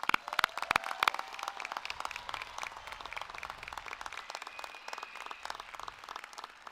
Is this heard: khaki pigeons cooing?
no